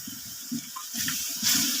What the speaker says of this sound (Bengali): গুঁড়ো মরিচ এর জন্য আর একটু পানি দিয়ে দিচ্ছি